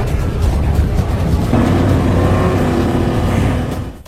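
A vehicle engine roars as it accelerates hard during an action film desert chase. The growl is loud and sustained from start to finish, with no voices.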